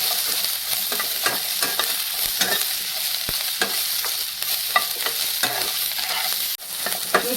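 Paneer roll filling with capsicum stirred and fried in a pan, a steady sizzle under repeated scraping strokes of a spoon against the pan, close and continuous with no talking.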